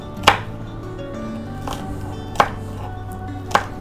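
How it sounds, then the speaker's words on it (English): Green chilies being chopped with a knife on a board during Lamb Karahi prep, three sharp, isolated knife strikes spaced about a second apart over a steady low background hum. "let's chop some green chilies, which will go on top of this"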